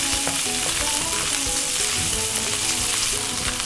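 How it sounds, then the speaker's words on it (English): Fried onions are stirred into roasted eggplant in a hot pan for Indian-style baingan bharta, a loud, constant sizzle with stirring scrapes close up and no talking. "we're ready to add our onions back in. Just gonna stir that together."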